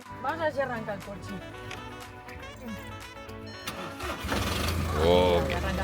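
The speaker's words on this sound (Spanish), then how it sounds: "Vamos a ver si arranca el coche." A car engine cranks and catches, then settles into a running idle that swells louder toward the end, with someone talking over it.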